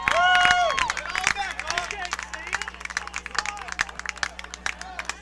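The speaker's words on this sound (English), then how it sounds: "I'm not sure what the applause is for." Crowd applause and cheering in the stands at a high school baseball game, scattered claps and shouts over a busy murmur of voices, fading into sparser individual claps.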